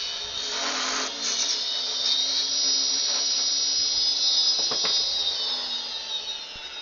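A steady high-pitched whine of a spinning wood lathe runs throughout as a tool parts off a turned wooden Christmas tree, with a few scraping bursts near the end.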